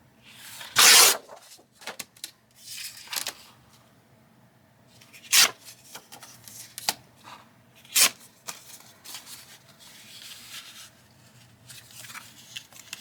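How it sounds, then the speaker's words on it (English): Scissors cutting paper for a journal insert, a series of sharp, scattered snips and rustles at close range, with one louder crisp cut near the start and quieter snips spread through the rest. "let me kind of cut this out."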